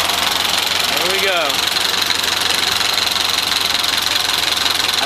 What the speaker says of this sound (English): I could have gave it a little throttle and probably straightened out that flooding in the carburetor